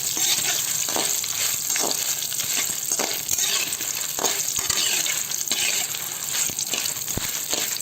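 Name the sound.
dried red chillies frying in a pan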